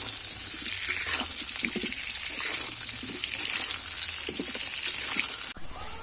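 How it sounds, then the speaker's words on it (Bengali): Steady, loud sizzling of spices with turmeric powder frying in hot oil, a continuous crackling hiss with small pops, close up and without talk. "হলুদ গুঁড়ো দেবো একটু দিয়ে এটা আমি ভালো করে ভেজে নেব"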